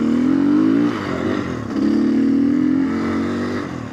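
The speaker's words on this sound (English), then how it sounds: "you've got to give it a bit of a rev." A GPX off-road motorcycle engine, fuel-injected with no choke or carburetor, revs loudly and close by in two rising pulls, dropping back between them.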